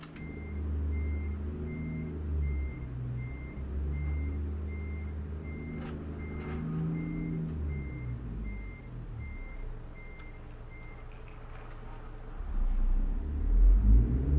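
A truck's reversing alarm beeps steadily in American Truck Simulator, a regular high pulsing that runs over a low idling engine rumble, with the engine swelling louder near the end.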